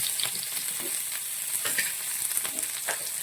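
Chopped ginger and garlic sauté in a hot pan while bread fry is being prepared, giving a steady, close sizzle broken by the occasional scrape of stirring.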